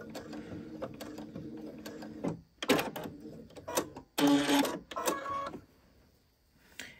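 Sewing machine stitching fabric while topstitching with a backstitch at the start and end: short mechanical whirring runs with pauses between, a few louder bursts of rapid clatter, then quiet.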